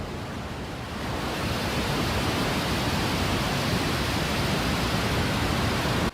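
Rumbling roar of a Starship rocket at liftoff, a dense broadband thunder that swells after the first second and holds steady and loud with no voices over it.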